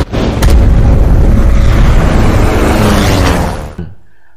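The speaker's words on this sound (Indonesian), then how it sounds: "Lalu kapal ini mereka ledakan." A loud, roaring ship explosion from the James Bond film No Time to Die bursts out and rumbles on for several seconds, then cuts off abruptly into near silence.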